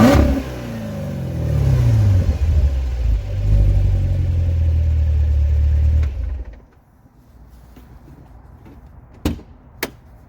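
A 2019 Chevrolet Corvette Z06 engine revs up with a deep rising roar, holds loud for several seconds, then cuts off, followed by a couple of sharp clunks like a door.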